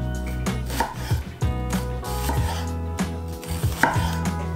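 Half an onion being cut into thin slices with a knife, a steady run of crisp close chops as the blade strikes the cutting board again and again in a quick, even rhythm.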